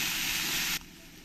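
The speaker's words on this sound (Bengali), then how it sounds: "এবার আমি গ্যাসটা কমিয়ে দিয়ে খুব ভালো করে উচ্ছেগুলোকে ভেজে নেব।" Bitter gourd frying in a pan on a gas stove gives a loud, steady sizzling hiss that cuts off abruptly partway through, leaving a much quieter background.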